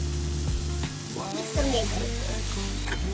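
Chopped garlic sizzling in a pan for an egg and fenugreek-leaf dish, a close steady fry with scraping stirs of a spoon, and a voice talks briefly over it.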